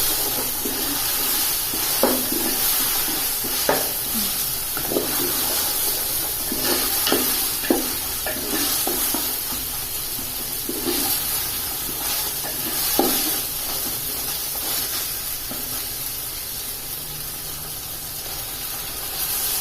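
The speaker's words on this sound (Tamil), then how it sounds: "இஞ்சி பூண்டு நல்லா பச்சை வாசனை போகிற வரைக்கும் நல்லா நம்ம வதக்கி விட்டுக்குவோம்" Ginger garlic paste sautés in a pan for a country chicken biryani, with a continuous loud hiss and sizzle and periodic spatula scrapes and taps, close and unaccompanied by speech.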